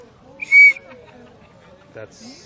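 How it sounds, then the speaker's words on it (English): A sharp whistle is blown once at a street protest, a short shrill blast standing out over faint crowd noise and distant chatter, followed later by a softer high tone. "Maybe a darker whistle next time might be more appropriate."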